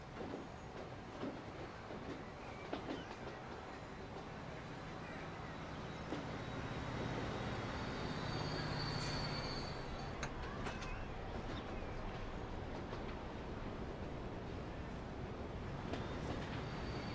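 A black and gold train in a town-building video game rolls past with a steady mechanical rumble and rattle that grows slightly louder midway, set against a soft ambient background.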